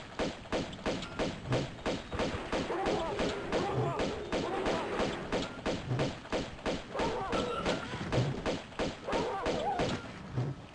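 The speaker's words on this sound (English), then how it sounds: "Lots of shooting." Gunfire in the 1997 video game Tomb Raider II, a steady run of evenly spaced thudding shots repeating throughout, with a voice talking over it.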